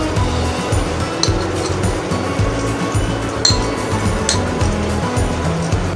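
Dry green peas tumble into a cooking pan with a loud, close rattle and clink, continuing as a steady patter over several seconds.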